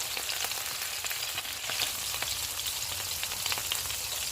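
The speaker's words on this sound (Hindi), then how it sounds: "ऑयल गर्म हो गया, इसमें हम कबाब रख देंगे और इनको हम दरमियानी आंच पर फ्राई करेंगे।" Kebabs frying in hot oil in a pan over medium heat: a steady, close crackling sizzle with scattered pops, continuous throughout.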